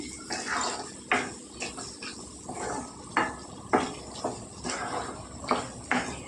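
Chilli powder stirred into hot oil in a pan for an aubergine and drumstick curry: a low sizzle under repeated scraping strokes of a spoon against the pan, steady and close, with no one talking.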